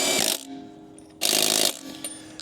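An impact wrench runs a lug nut down onto a Jeep Gladiator wheel in two loud, rattling bursts, each about half a second long, separated by a quieter pause, close to the microphone.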